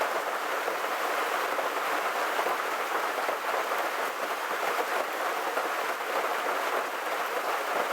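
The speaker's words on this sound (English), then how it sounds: "And the rain." Steady, dense rain hisses without a break, a broad even wash of drops falling outdoors with no voices over it.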